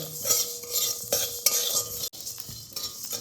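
Spices for a vegetarian cabbage dish fry in a pan while being stirred continuously, with scraping and clinking of a utensil against the pan over a light sizzle, close and without talk.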